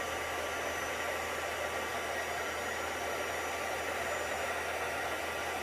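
A heat tool blows a steady, even hiss of hot air while melting embossing powder on a Stampin' Up card, a constant close rushing drone that holds unchanged throughout with no voices.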